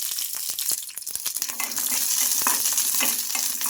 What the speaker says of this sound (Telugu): మనకు మిర్చి బాగా ఫ్రై అయిపోవాలి ఇందులో